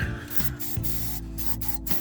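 An aerosol can sprays in short hissing bursts, broken by brief pauses, over a low mechanical hum, during work on a Toyota FJ55 Land Cruiser.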